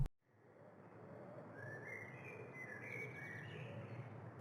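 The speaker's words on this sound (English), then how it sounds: "I heard my birds screaming" Pet birds call indoors, a faint run of high chirps and squawking cries that swell over a few seconds above a low background hum, distant-sounding and without voices.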